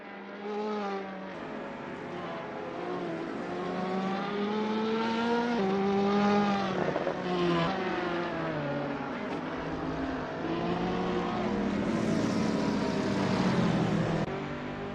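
GT3 race cars, among them a Ferrari 458, lap Mugello in the Assetto Corsa racing game, engines howling and revving through rising and falling gear changes, steady and fairly close, with no talking.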